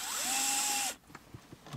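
A power screwdriver whirs steadily while backing out screws during a radio installation in a 1999–2006 BMW 3 Series. The whir runs loud for under a second, then cuts off, leaving a few faint clicks and handling taps.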